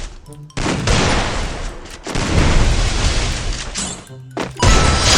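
Rapid bursts of gunfire from the Free Fire battle royale video game, loud and dense, filling most of the stretch with brief gaps between volleys.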